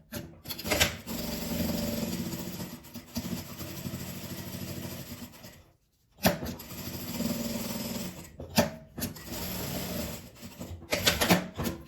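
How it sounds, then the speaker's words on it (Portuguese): Sewing machine topstitching around a patchwork fabric flap for a scrap-fabric phone holder: a steady, close mechanical whirr in long runs, broken by a brief pause and a few short stops and restarts. "Vou passar um pesponto aqui em volta da aba"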